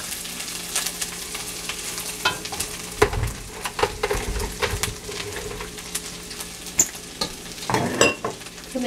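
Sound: tomato-onion paste and red chili powder poured into hot pan, frying

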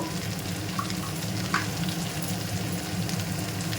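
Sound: sautéing ghugni masala with cumin powder in a pan

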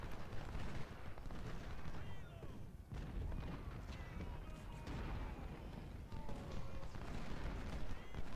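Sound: artillery fire in the video game Ultimate General: Civil War

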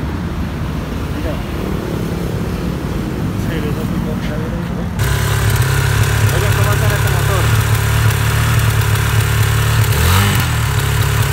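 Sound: Victory Venom 250 carbureted motorcycle engine idling

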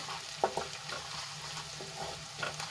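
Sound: turmeric sizzling in hot oil with ginger, garlic, chillies

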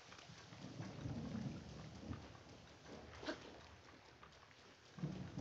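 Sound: rain and thunder in a video game

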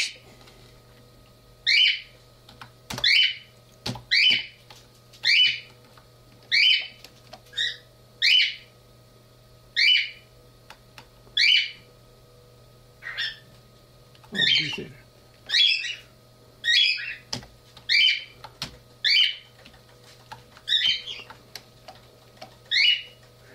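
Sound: birds chirping

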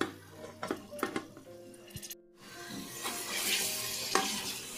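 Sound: mutton pieces stirred and fried in a pan

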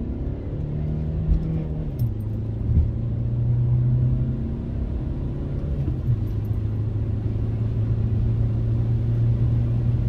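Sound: SEAT Leon car accelerating in second gear on boost

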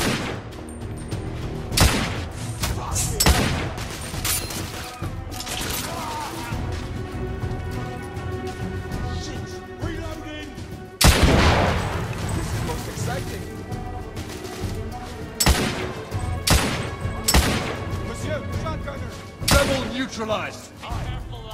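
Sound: gunfire in a fire fight, from the video game The Order: 1886

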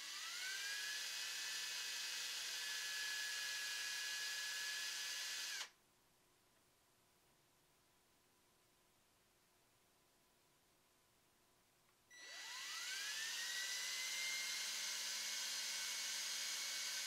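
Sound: drilling eye sockets in MDF crankbait lure

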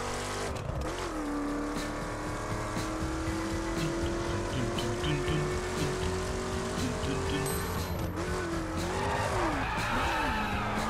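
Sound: car braking and skidding in racing video game The Crew

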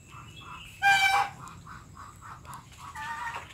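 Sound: geese calling at the pen

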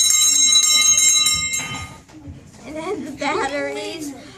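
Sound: bell ringing

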